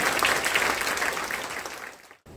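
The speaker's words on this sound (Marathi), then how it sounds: "एकदा टाळ्या या मंचासाठी होईल" Sustained audience applause at a Keshavsrushti award ceremony, a dense, even wash of clapping from a crowd that carries on steadily before cutting off abruptly near the end.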